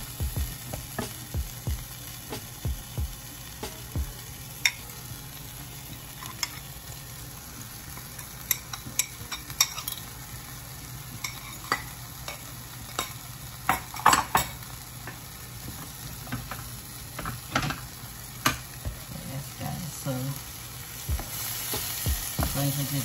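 Tuna mixture being stirred in a frying pan for sweet plantain cups, with steady sizzling and frequent scraping clicks of a utensil against the pan, close and moderately loud, no talking.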